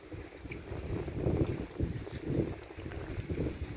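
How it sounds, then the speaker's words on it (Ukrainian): Gusty wind by a lake in Finland in early spring buffets the microphone in uneven low rumbling bursts, rising and falling over a few seconds with no voices. "Але вітер дує, відчувається як мінус 3, а не плюс 3."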